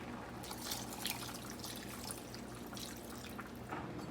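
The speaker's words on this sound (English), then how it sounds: "You have to add a little bit of extra water down here." Water poured into a pot of butternut squash soup, a continuous close splashing and trickling stream with small bubbling sounds and no talking.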